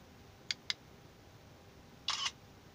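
Smartphone camera shutter fired by a Daiso Bluetooth remote: two short, sharp clicks close together, then a longer double shutter burst a moment later, crisp and near in an otherwise quiet room.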